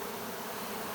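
Honeybees, including nurse bees, buzz steadily on a brood frame during a hive split, a dense continuous hum close to the frame with no talking.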